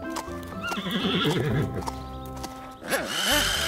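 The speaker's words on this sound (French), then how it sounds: "Scoop joue avec les chevaux." Cartoon horses neigh and whinny in a children's animated farm scene, with clip-clop hooves and bright music running underneath, the whinnies rising and falling near the start and again toward the end.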